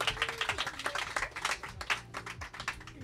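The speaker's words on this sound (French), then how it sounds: "On l'applaudit, on l'applaudit." Scattered clapping from a small audience, fairly faint and uneven, with distinct individual claps rather than a full roar, fading slightly toward the end.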